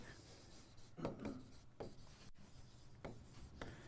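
A pen scratches across paper as an exam answer is written, with soft rubbing strokes and short pauses in an uneven, close, quiet rhythm.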